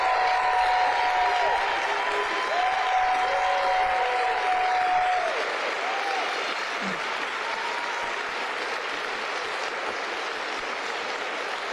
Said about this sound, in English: Please stand and let us applaud your hard work.